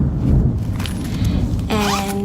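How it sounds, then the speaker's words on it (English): Zippers on a travel pouch being pulled, several quick zipping strokes close and loud, with a longer rasping zip near the end. "it has like four zippers"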